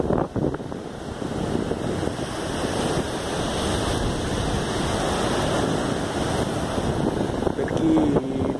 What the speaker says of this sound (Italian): Qua è la situazione del mare.